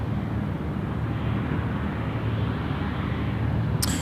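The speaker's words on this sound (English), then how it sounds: "An A350 from Thai Airways." A Thai Airways A350 airliner rolls past at Sydney Airport, producing a steady, low, broad engine rumble throughout, with a brief sharp click near the end.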